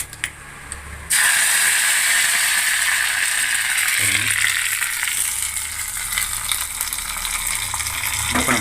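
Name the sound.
curry leaves sizzling in hot oil for banana stem chutney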